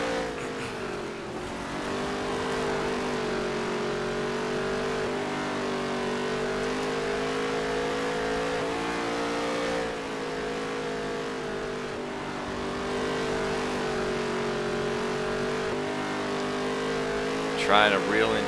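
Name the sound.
race car engine in NASCAR Heat 3 video game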